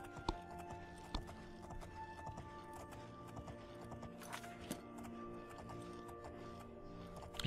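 In the video game The Elder Scrolls IV: Oblivion, quick repeated hoofbeats of a galloping horse, fairly faint, run steadily over a constant low background drone.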